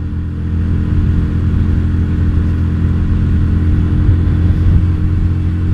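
Steady, loud rumble of a Yamaha Virago XV250 motorcycle fitted with a 17-tooth front and 40-tooth rear sprocket, heard while riding on a test run, with an even engine drone and no speech.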